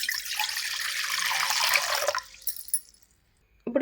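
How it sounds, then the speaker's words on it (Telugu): Water pours steadily into a bowl for about two seconds, close and rushing, then thins to a few drips and goes quiet before a short clatter at the end. "ఇప్పుడైతే ఒక గిన్నె తీసుకొని అందులోకి అయితే నీళ్లు పోసేసుకోవాలి"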